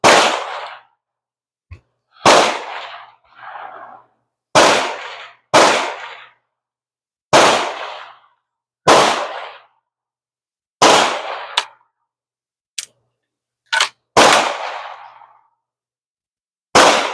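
A Mauser Model 71 rifle is fired outdoors, sharp loud cracks spaced a second or two apart, each followed by a short decaying echo, with occasional smaller clicks between shots.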